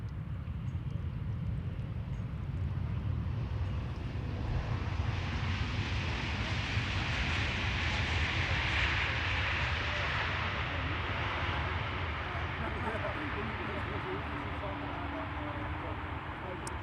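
Embraer E195-E2 airliner at Amsterdam Schiphol, a steady broadband roar with wind noise that swells toward the middle and holds for the whole stretch, with faint voices underneath.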